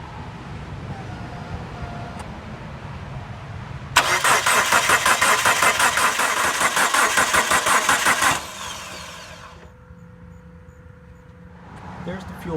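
A Dodge Neon engine cranks with a loud whirring starter for several seconds, then settles into a quieter steady idle with a faint hum, heard up close in a garage.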